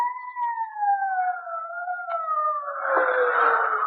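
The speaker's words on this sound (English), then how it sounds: "Sirens. Can't you hear them?" Police siren wailing in an old radio drama, a single falling tone that swells into a noisier, rougher wail toward the end, alone without talk.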